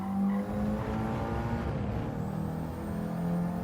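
A steady racing car engine in Gran Turismo 7 drones with a whining, shifting pitch and a faint tire squeal, continuous and moderately loud, with no voices.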